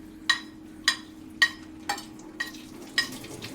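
Small onions sautéing in hot oil, with six sharp bursts of stirring and sizzling spaced about half a second apart, close and fairly loud over a low background hum.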